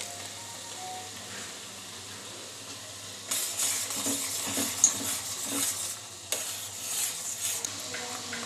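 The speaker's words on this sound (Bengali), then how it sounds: "দেখো, কালো জিরেগুলো দিয়ে দিচ্ছি।" Nigella seeds dropped into hot oil, a faint background hiss that bursts into a brighter crackling sizzle partway through, with a light metallic clink, heard up close with no talking.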